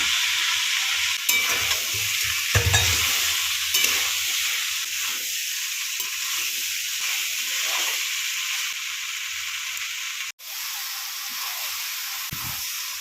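Green peas frying with spices and a splash of water in a pan for ghugni, a steady soft sizzle and hiss with occasional stirring scrapes, close and continuous without talk.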